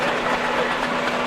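A steam engine rumbles and rattles nearby in a show ring with a steady low drone and rhythmic clanking as it rolls past.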